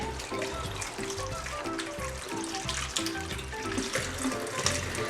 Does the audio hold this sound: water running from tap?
yes